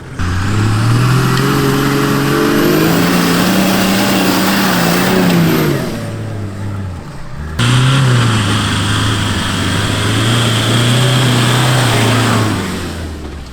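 A Land Rover Defender from Iceland climbs a sandy slope, its engine revving loud and close in long sustained pulls, easing off briefly midway before surging again with no voices.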